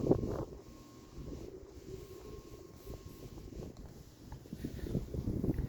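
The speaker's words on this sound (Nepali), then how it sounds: "जापानको शिजुका कुकुरै केन भन्ने ठाउँमा हावा लास्टै लगाएको छ।" Strong wind over farmland in Shizuoka, Japan, buffets the microphone with a low, uneven rumble that swells and eases in gusts, fairly faint, with no voices.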